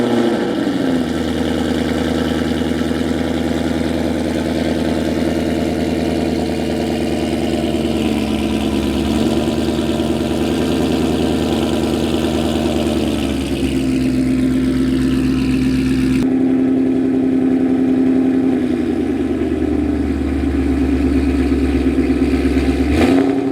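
A supercharged 2020 Shelby GT500 V8 with a Corsa Performance catback exhaust idles with a deep, steady rumble, then revs up and settles back, the exhaust note shifting as the throttle changes.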